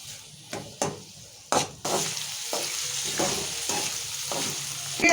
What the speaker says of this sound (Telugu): వేగుతున్నాయి మంచిగా ఉల్లిగడ్డలు వేగినాయి